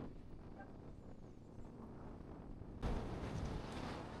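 Steady wind buffeting an outdoor microphone in Dominica, a low rumbling gust that swells louder toward the end, with no voices.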